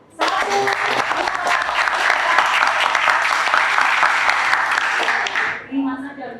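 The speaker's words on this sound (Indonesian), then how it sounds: "kita mau tepuk tangan bersama-sama dalam hitungan 5 ya" A class claps together in counted groups of five, a dense sustained burst of clapping from many hands that holds for several seconds then stops abruptly, leaving a brief quiet tail.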